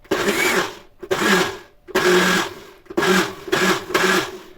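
A kitchen blender runs in several loud, roaring pulses with brief pauses between them, whipping a diet-style cheese (tvorog) dessert mixture that includes milk.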